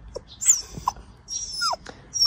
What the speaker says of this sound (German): ihr seht ein Jaulen, ein Gähnen, Quietschen, so viel Energie drin